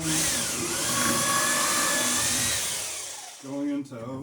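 Small drill driving into oak on a dory build, a loud steady whine that slows and fades, followed by a shorter higher-pitched burst near the end.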